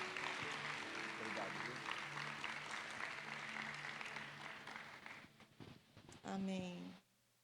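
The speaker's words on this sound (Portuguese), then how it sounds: "Queria que você aplaudisse o Senhor pela vida dela." Church congregation applauding during a leaders' gathering: a dense, sustained wash of clapping from many hands that fades after about five seconds, followed by a few brief shuffles and a short burst of voices.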